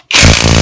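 A Kimo 20V cordless 1/2 inch impact wrench tightening sounds as a sudden loud, dense mechanical blast that starts abruptly after a short silence and holds steady for under a second.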